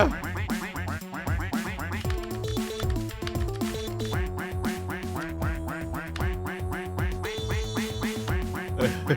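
Rapid, repeated duck quacks over busy, bright Friday Night Funkin game music with a steady beat, the quacks bunched together and loud throughout.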